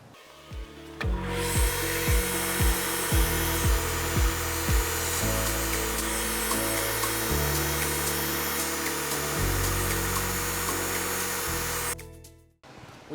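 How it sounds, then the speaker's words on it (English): A bench grinder shapes custom orthotics with a loud, sustained whine that steps up in pitch in pulses at first, then holds steady before cutting off. "We're gonna take this to the grinder and we're gonna wrap this sucker up today."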